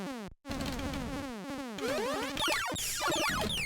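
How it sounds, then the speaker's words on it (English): An extra-life pickup chime in a video game rings out as rising and falling electronic pitch sweeps, layered over busy, continuous game sound effects and music, loud and close. "That was an extra life."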